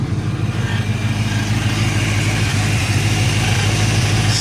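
A 1995 Ford Mustang with a 5.0 engine idles after its first start in about four months, a steady low rumbling throb with a slightly uneven pulse, loud and close, with no voices over it.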